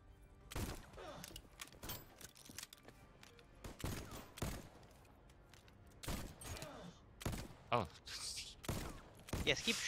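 Gunfire in a team shooter video game, irregular loud bursts and single shots spread across the stretch, some close and sharp, with game effects and speech in between.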